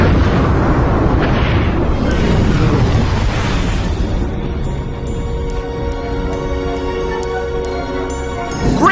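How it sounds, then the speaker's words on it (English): Film sound effect of a planet exploding in Lost in Space: a loud, sustained roaring blast with rumbling debris that gives way to swelling orchestral music. "They make it out before the planet explodes."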